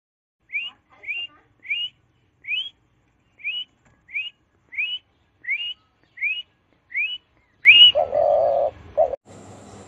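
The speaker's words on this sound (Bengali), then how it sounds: "ঘয়ে ঘুঘু পাখি ডাকছে গাছে।" A dove calls from a tree with about ten short, rising whistled notes, evenly spaced and clear against silence. A louder, noisier burst follows near the end.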